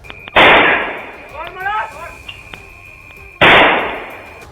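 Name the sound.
gunshots fired rapidly in a street, news footage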